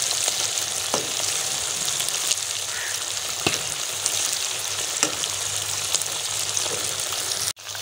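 Chicken pieces browning in hot ghee for Peshawari charsi karahi, a steady loud sizzle with a few faint stirring scrapes and no voices.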